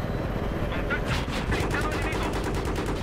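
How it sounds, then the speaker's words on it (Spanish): An anti-aircraft gun in Battlefield 3 opens fire partway through, a rapid, rhythmic burst of loud shots over a constant low rumble of battle. "Hay un antiaéreo. Dispara al antiaéreo que se nos peta"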